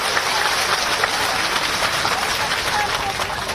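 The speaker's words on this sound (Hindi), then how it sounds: "आदरणीय शिवराज सिंह जी का स्वागत तालियों की गड़गड़ाहट से मेरी पिपराई की जनता करे" Audience applause welcoming Shivraj Singh at a political rally in Pipariya, a steady dense wash of clapping lasting throughout with no gaps and no clear talk over it.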